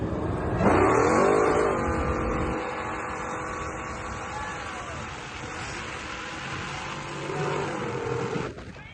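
A truck engine revs hard and accelerates up close, pitch sweeping upward, then settles into a steady roar before surging again near the end.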